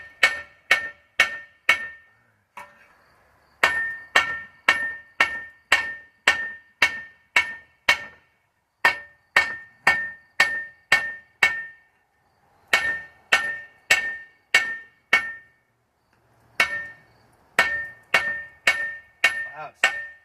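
Hammer blows ring out on an anvil while tent stakes are forged, sharp metallic strikes in quick even runs of about a dozen, each ringing briefly, separated by short pauses, close and alone.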